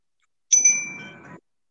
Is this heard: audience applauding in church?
no